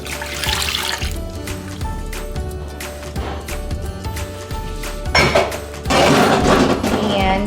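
A dissolved yeast mixture pours into a Bosch bread mixer, making splashing, running liquid sounds that surge louder toward the end, mixed with clattering and a voice speaking.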